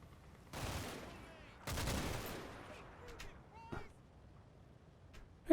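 Gunfire crackles in the Combat Mission: Battle for Normandy wargame, with two broad bursts close together and then a few fainter scattered shots, all fairly quiet and distant.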